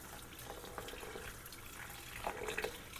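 Berries being rinsed under a running kitchen tap for homemade jam, a steady soft stream of water splashing into a sink with small brighter splashes near the end, no talking.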